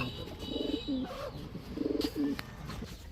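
Racer pigeons coo close by in two soft, rolling phrases separated by a brief pause.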